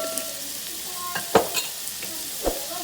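Onions sautéing with salt in a pan sizzle steadily, with a few sharp spatula scrapes and stirs standing out above the frying hiss.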